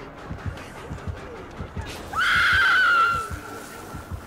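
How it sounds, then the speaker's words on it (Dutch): A character in the horror game Dead by Daylight lets out a loud, sustained scream for about a second, set over a steady rhythmic thumping like a heartbeat. "Hij is lekker aan het gillen."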